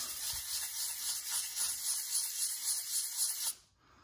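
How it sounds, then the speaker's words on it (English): Fine 400 grit sandpaper rubs back and forth on the gear indicator contacts of a Yamaha FZ-07 (MT-07) motorcycle, a steady close scratchy hiss in quick strokes that stops abruptly near the end. "So now I'm gonna take a little bit of my sandpaper"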